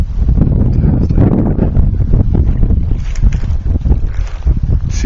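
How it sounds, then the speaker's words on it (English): Steady, loud wind gusting across an open roadside landscape near the San Francisco Peaks outside Flagstaff, a broad continuous roar with rising and falling surges over about five seconds. "See the gusts of wind coming by the heads of the daisies moving."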